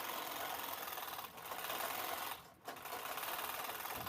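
A sewing machine stitches handbag lining with a steady, fast mechanical whirr close by, pausing briefly twice before running on again.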